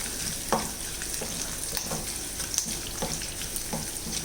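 Ginger and garlic frying in a clay pot for prawns roast: a continuous oily sizzle with soft, regular stirring scrapes every half second or so, close and moderately loud.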